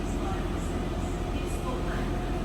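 A driverless DLR train in London running along the line, giving a steady, loud broadband rumble of wheels and motors that fills the whole clip with no pauses.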